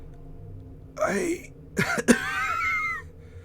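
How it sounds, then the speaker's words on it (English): A voice performs a raspy, wheezy cough and throat-clearing, a strained rising groan followed by a harsh dusty hack, close up. "Kind of a dusty cough and a bit of a wheeze."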